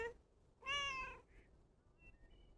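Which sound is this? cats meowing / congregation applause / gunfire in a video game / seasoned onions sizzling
cats meowing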